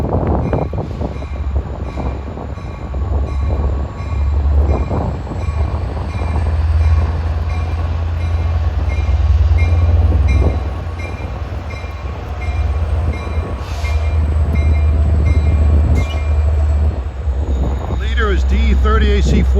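A Long Island Rail Road train rolls past a grade crossing with lowered gates on the snowy Montauk Branch, a steady heavy low rumble of wheels and engine lasting throughout, with brief metallic squeals and people talking over it.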